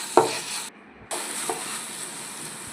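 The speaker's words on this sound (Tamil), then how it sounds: "மஞ்சள் அப்புறம் குழம்பு மிளகாய் சேர்த்து நல்லா வதக்கிடலாம்" Tomato with turmeric and chili powder sautéing in a pan, a close sizzle with a single sharp utensil tap near the start and a brief drop-out, then a steady hiss.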